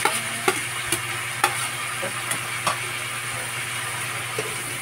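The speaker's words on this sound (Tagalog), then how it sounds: "Ilalagay ko na yung labong ha." Bamboo shoots sizzle in a hot pan while a utensil stirs them, a steady frying hiss punctuated by regular scraping knocks of the spoon against the pan, with no voices.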